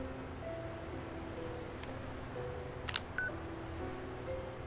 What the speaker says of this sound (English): This fucking flip phone gets me every time.